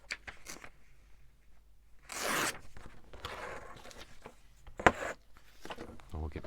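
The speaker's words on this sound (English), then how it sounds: "Let's tear that down. Make some envelopes out of this." Paper being torn by hand to make envelopes, with several close ripping and rustling bursts, one long tear standing out, against a quiet background.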